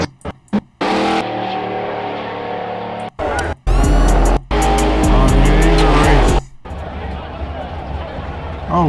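A light Buick Regal drag races a heavy Caprice donk with big-block and LSX engines, loud engines roaring in bursts cut by abrupt gaps, with tire squeal and heavy distortion, over excited talk.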